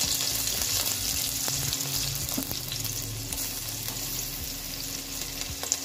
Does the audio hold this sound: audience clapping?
no